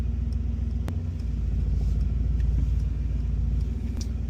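A Mercedes-Benz AMG GT55 Coupe burbles through its exhaust with a steady, deep low rumble heard from inside the car, with a few faint clicks over the top.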